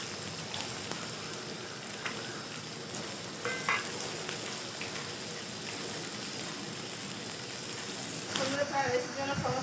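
Vegetables, capsicum, cashews and raisins frying in a pan for wedding-style vegetable fried rice, with a steady low sizzle and occasional stirring scrapes throughout, a little louder near the end.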